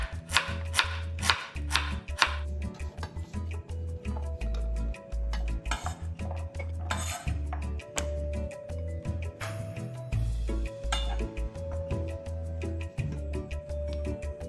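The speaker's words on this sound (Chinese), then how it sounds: "75克紫色番薯切成薄片，再加个300克芋头" A knife cuts purple sweet potato and taro into thin slices on a board, giving sharp, irregular cutting knocks over steady background music.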